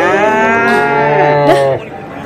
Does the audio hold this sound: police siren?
no